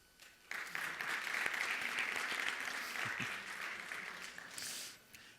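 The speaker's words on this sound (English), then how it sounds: "They deserve a clap." A festival session audience breaks into applause, a dense wash of clapping that starts abruptly, holds steady for several seconds, then fades out.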